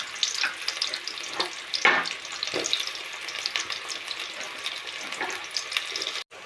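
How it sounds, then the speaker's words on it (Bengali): Onions fry in a pan with a dense, steady sizzle throughout, broken by occasional stirring scrapes and small crackles, and no voices. "আমার পেঁয়াজটা হয়ে গিয়েছে ভাজা"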